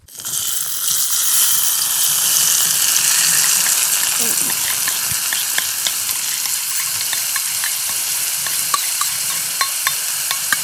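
Oil sizzles loudly and steadily with onion, tomato and chili frying in a pan on a campfire stove at a jungle campsite, a close, continuous crackling hiss.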